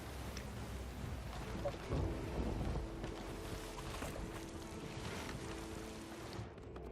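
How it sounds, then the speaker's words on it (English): Stormy sea in the pirate game Sea of Thieves: a dense, faint wash of wind, rain and rolling water against a wooden ship, with a brief swell of rumbling, continuous and without talk. "Because the storm is here."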